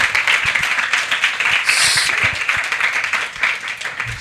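An audience at a conference pavilion applauds a panel, dense and loud clapping that holds steady for several seconds with no voices over it.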